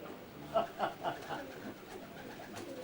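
Pigeons coo from a loft in a short run of three or four soft, rounded calls close by, fading into quieter cooing and background noise.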